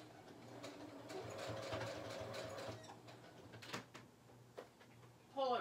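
A home sewing machine set up on a desk stitches fabric with a steady low mechanical whir that continues for a few seconds before fading, followed by a few scattered clicks and handling noises.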